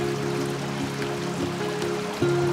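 A water feature trickles softly in an urban garden, a faint continuous burble and splash under a steady low hum with no voices.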